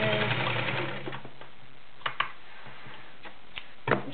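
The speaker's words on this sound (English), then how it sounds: "That is the Kenmore Model 1940 Convertible. All metal, 1 amp sewing machine." A vintage all-metal Kenmore Model 1940 Convertible sewing machine with a 1 amp motor whirs close by as it stitches, then winds down into sparse, sharp mechanical clicks and ticks.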